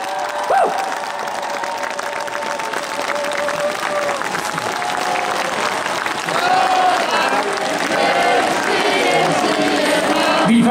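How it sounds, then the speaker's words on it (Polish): An outdoor audience at a live concert at the Kadzielnia amphitheatre in Kielce claps steadily and dense, with crowd cheering and voices over a faint tonal background throughout. "Brawa, drodzy Państwo!"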